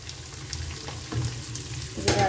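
Chicken chili ingredients frying in a pan give a soft, steady sizzle with light stirring and a brief louder scrape near the end.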